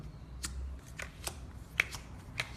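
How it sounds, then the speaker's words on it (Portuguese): Deck of playing cards handled as if shuffling, soft scattered flicks and riffles that sound faint and sparse in a quiet room. "eu faço assim como se fosse baralho mesmo de carta"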